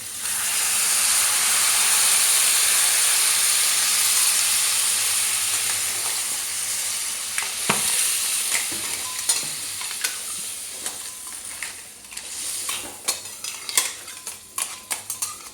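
Water hits a pan of sizzling crab curry, bursting into a loud, dense hiss of steam that gradually settles, followed by a run of metal spoon clinks and scrapes against the pan over a softer simmering sizzle.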